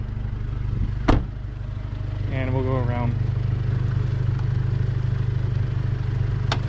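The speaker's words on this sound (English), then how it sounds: "Let me go ahead and turn off the car real quick because the sound might be a little distracting here" An Alfa Romeo Giulia engine idles with the hood open, a steady low hum running throughout, close by, with a brief clack early on and someone talking over it.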